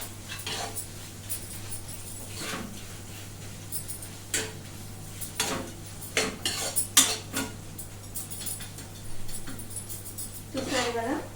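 Grated mango stirred with salt in a pan, a utensil clinking and scraping against the metal in irregular taps and scrapes over a steady low hum, with a few sharper knocks near the end.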